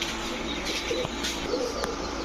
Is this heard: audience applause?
no